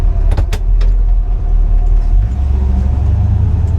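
A 1957 Chevrolet Bel Air being driven, its engine giving a steady loud low rumble throughout, with a few sharp clicks or knocks near the start.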